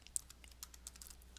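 Quiet, close computer keyboard clicks tapping out a vendor ID in a quick irregular run of light keystrokes, with no voices.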